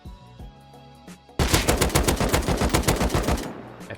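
Automatic AK rifle fire in the survival game Rust: a quiet lead-in, then a sustained rapid burst of loud, evenly spaced shots lasting about two seconds before cutting off.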